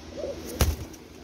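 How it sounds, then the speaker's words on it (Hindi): A pigeon coos softly in a short low warble, followed by a brief thump nearby. "बड़ा अच्छा कबूतर है भी"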